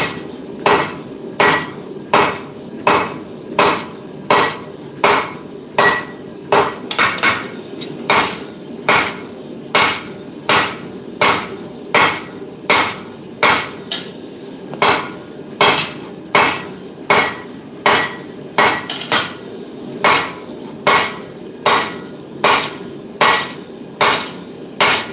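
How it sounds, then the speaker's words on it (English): Hammer forging a parang blade, ringing metallic blows struck loud and close at a steady rhythm of roughly one per second, with no talk. "Bit of whack forging going on."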